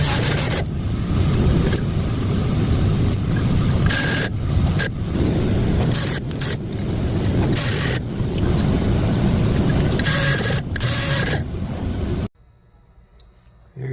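Engine valve seats being ground for a three-angle valve job make a loud, steady buzzing, grinding whir in bursts with short pauses, then cut off abruptly near the end.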